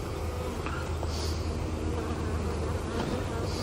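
Honeybees hum in a dense, steady buzz at an opened beehive, a close and continuous drone with individual bees flying past now and then.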